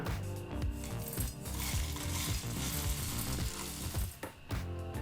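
A teaspoon of poppy seeds roasts in a hot pan with a dense, continuous crackling sizzle, stirred now and then, loud and close with no speech.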